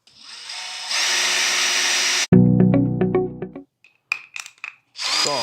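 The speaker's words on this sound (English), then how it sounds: "Pre-drill your hole here." Power drill pre-drilling a hole in a shower wall panel, a close, loud whir of about two seconds, followed by heavier grinding and a few short bursts.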